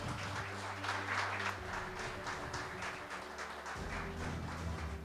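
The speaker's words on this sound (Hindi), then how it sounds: "इसके लिए जोरदार तालियां।" An audience at a mentoring seminar breaks into sustained applause, steady clapping over a low musical drone, fairly faint and continuous throughout.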